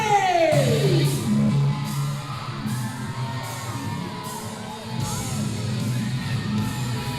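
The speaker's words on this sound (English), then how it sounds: "The kids are cheering for him" Kids in a wrestling crowd cheering for wrestler Kirk Aubé, a steady roar of whoops and yells with scattered shouts, while arena music and a rising sweep play over the noise.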